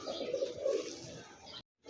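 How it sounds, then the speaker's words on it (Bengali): Pigeons of mixed breeds such as Lahore, Danish racer and satin at a pigeon sale, a soft low cooing close by, brief and fairly quiet, breaking off near the end. "দুইটা কবুতর দাঁড়াইছে দেখেন"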